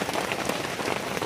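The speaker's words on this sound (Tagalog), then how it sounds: "kay lakas ng ulan" Heavy rain drumming hard and steadily on a surface close by, a dense, loud, continuous patter with no voices.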